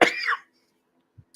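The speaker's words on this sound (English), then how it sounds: "I'm going to be probably coughing a lot today." One short, sharp cough near the microphone, followed by silence and a faint throat sound.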